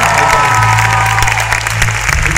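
A concert audience applauds and cheers at a festival show, a loud continuous roar of clapping and crowd noise with music or a sustained tone underneath.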